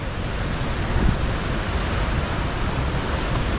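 A waterfall in Andharban forest in Maharashtra roars as a loud, continuous rush of water, steady throughout with a slight swell near the start and no talking.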